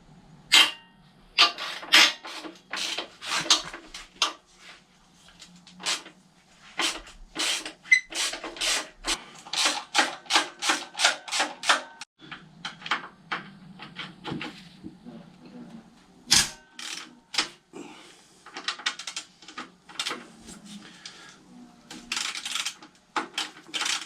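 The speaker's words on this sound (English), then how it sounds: "Now I'm going to take the bolts off and the bracket" Tools work on the engine mounting bolts and bracket of a Kawasaki Zephyr 750 motorcycle, giving a long run of sharp, rapid ratcheting clicks and metallic taps in quick bursts, with brief pauses between them.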